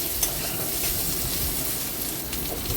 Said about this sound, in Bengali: আলুটাকে আস্তে আস্তে আস্তে একটু লাল লাল করে ভাজা করে দিচ্ছি